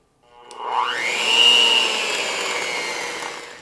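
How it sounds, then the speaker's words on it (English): An electric mixer beats almond flour into keto pecan pie muffin batter, whirring up to a steady high-pitched drone that holds loud and close for several seconds with no talk. "So we'll beat in our almond flour."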